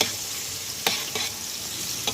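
Tomato sofrito with garlic hits a pan of cuttlefish, giving a steady close sizzle with a few sharp stirring scrapes and clinks breaking through.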